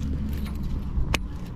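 Keys jangle and rattle briefly as a key goes into the ignition switch of a New Holland TC33D tractor, a single quick metallic burst over a steady low background rumble.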